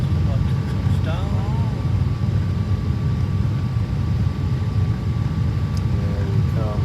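Steady, loud cabin roar inside a Cathay Pacific Boeing 777-300ER on final approach to Hong Kong just before touchdown, a continuous low engine and airflow rumble with faint chimes and brief tones over it.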